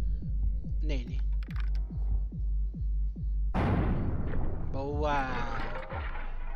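In the video game Buckshot Roulette, a single sudden, loud shotgun blast cuts in after a run of steady, low, rhythmic thumps, and a voice follows soon after.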